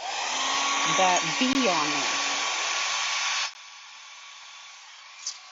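A hair dryer blows steadily and close by to dry a rustic Christmas craft project, then cuts off abruptly partway through, leaving quiet. A person speaks briefly over the airflow near the start.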